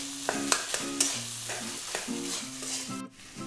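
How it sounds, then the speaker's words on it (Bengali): Potato frying in hot oil while being stirred, a steady close sizzle with repeated scraping and clinking strokes of a utensil against the pan. "আলুটা একটু ভালোভাবে ভেজে নেব"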